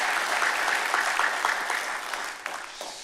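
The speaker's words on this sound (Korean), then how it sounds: "박수로 한번 격려할까요?" A church congregation at a Wednesday evening service applauds to encourage its volunteers. The clapping is brief and fairly close, a warm burst that fades toward the end, with no talking over it.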